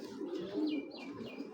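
Soft, low pigeon coos roll along in steady waves over about a second and a half, from a large, show-quality pigeon with a full neck and fine feathers kept for sale, alongside a few higher chirps.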